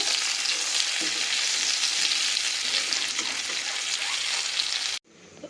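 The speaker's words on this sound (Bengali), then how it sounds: "বাকি মাছগুলো আমরা এইভাবেই ভেজে নেবো" Fish and prawns frying in hot oil in a kadai for a Bengali prawn malai curry, a loud, close, steady sizzle that cuts off abruptly near the end, with no talking.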